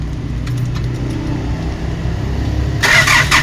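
A car engine cranks steadily with a low, rough drone, then catches with a sudden louder burst near the end.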